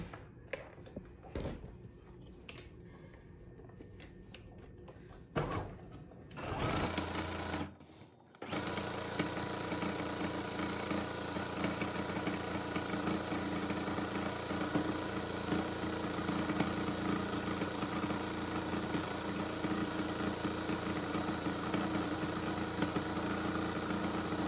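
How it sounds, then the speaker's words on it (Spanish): A sewing machine stitches fabric in a steady, fast mechanical whir that runs continuously after a few brief starts and stops, close and even, with no talking. "Y vamos a la máquina de coser."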